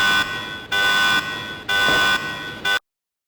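In the Resident Evil 2 video game, the train's self-destruct alarm blares as a loud, harsh electronic buzzer in three long pulses and a short fourth blast, each separated by a brief gap, then cuts to silence.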